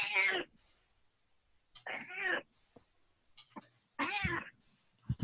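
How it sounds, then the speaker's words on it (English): A cat meows three times, loud and close, with long silent gaps between the cries and a couple of faint clicks in the pauses. "Please tell me that's Adelaide's cat"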